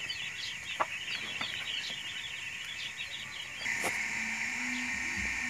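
Chickens clucking and cackling steadily close by over a hum of background noise, with a brief mechanical whine near the end.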